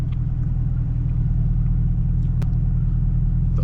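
Supercharged Camaro ZL1 with a manual gearbox makes a hard pull, a loud, close, steady low engine roar and rumble throughout with no talk.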